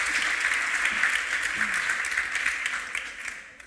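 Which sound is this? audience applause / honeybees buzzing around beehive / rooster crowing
audience applause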